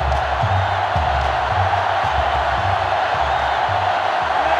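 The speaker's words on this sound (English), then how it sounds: "So this crowd is making their presence felt." Stadium crowd noise from the NCAA Football 2005 video game during a Florida Gators versus Tennessee Volunteers rivalry game, a steady loud roar of cheering held throughout with low rhythmic thumping underneath and no clear talk.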